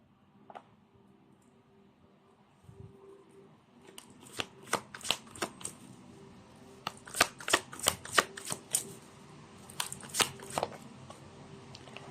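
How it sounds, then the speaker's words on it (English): Tarot cards being shuffled up close, a quiet start followed by a series of sharp riffling flicks and taps that come in bursts, loud and crisp with no talk. "let's try to pull up another set of cards"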